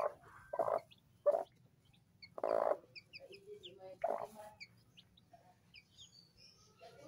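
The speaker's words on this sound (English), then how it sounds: "I see three chicks." Baby chicks peep in short high chirps, scattered through the clip under a few louder bursts of nearby clucking from a hen or other fowl, with a low steady hum behind.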